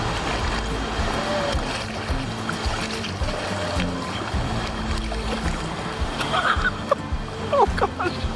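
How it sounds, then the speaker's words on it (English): Boat paddling down rapids on the Oconaluftee River after flooding, rushing water and splashing throughout, with brief voices and laughter toward the end. "I think we're coming up on a bit of a rapid."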